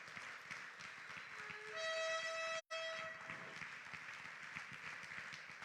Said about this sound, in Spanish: Dale palmas a Jesús.